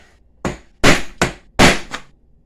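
Four sharp metallic taps ring out as a shredder differential cup is driven down into place on the edge of a vise, each strike crisp and close, spaced unevenly with quiet gaps between.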